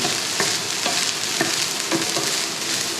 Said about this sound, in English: just tune up the heat and mix up, let all the salt and the sugar melt into the rice